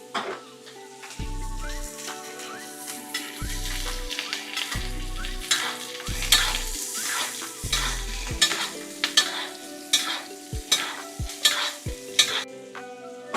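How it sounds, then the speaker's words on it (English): A steak sizzles steadily in a pan while it is basted, with repeated spoon scrapes and clinks against the metal over the frying hiss, ending in a few sharp taps. "After another minute has passed, we're going to flip the steak over again. We're going to start basting."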